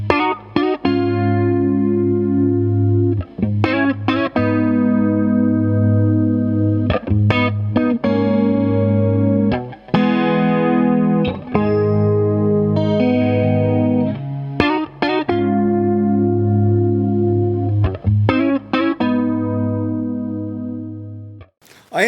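Guitar running through a Pastfx Elastic Mattress Flanger, a variant of the EHX Electric Mistress, set for a chorus-like shimmer; sustained strummed chords and picked notes swirl continuously for over twenty seconds, loud and alone.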